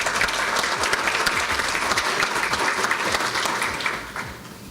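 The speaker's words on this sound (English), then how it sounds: "I want to ask you to give them a round of applause to welcome them to our beautiful Belize" Audience applause in a hall welcoming regional partners to Belize at a cybersecurity event, a dense steady clapping that carries loud and close for several seconds, then eases off toward the end.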